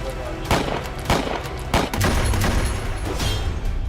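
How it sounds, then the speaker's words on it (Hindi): Rapid burst of gunfire at the Washington Hilton Hotel during an attack, seven to eight rounds cracking in quick succession with loud sharp reports and a roaring, reverberant background. "सात से 8 राउंड फायरिंग"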